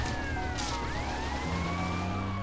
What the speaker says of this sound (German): Mach die Sirene aus